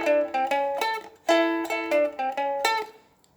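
Close, clear plucked notes from a ukulele with a higher-pitched top string, playing a rock and roll boogie riff. The repeated phrases bounce along without the low bass note, and the instrument plays alone.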